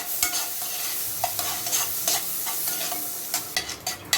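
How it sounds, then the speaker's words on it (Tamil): Garlic gently sautéing in butter in a pan over low heat, a soft continuous sizzle punctuated by repeated clinks and scrapes of a spoon stirring, close and without voices. "பூண்டு வந்து இந்த பட்டர்லேயே லைட்டாக சாட்டே ஆகட்டும்"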